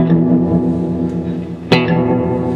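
A guitar runs through a VFE Pedals Yodeler reverb with pre-delay, sustained chords ringing with a wash of reverb, then a sharp plucked attack that blooms into a fresh reverberant tail.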